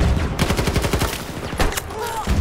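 Rapid GEW rifle shots in Battlefield 2042 crack out in a quick burst of close, loud reports, followed by a few more scattered shots.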